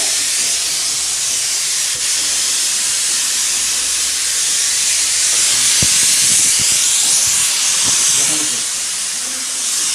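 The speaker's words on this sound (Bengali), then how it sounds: "একটা সিটি পড়লো, এই নিয়ে 2টো সিটি পড়লো, এই 3 নম্বর সিটি পড়লো" A pressure cooker cooking country chicken curry vents steam through its whistle, a loud, continuous close hiss lasting throughout, with a few faint kitchen clatters underneath.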